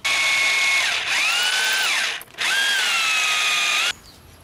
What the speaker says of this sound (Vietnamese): Rồi ở đây mình sẽ khoan một cái hốc vào đây